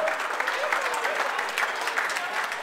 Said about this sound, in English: Big round of applause for coming out to the Colonial and Gardner.